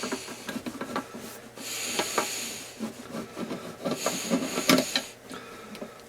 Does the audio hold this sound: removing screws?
yes